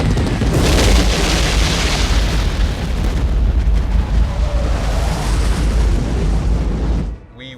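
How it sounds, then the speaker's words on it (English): An enormous film explosion from Apocalypse Now rolls out as a loud, sustained deep roar and rumble lasting about seven seconds before cutting off abruptly. "When one of those enormous explosions took place, you didn't hear it, you felt it,"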